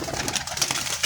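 Kasuri pigeon cooing close by, a steady low throaty coo with soft rhythmic pulses running through the whole second, no voices over it.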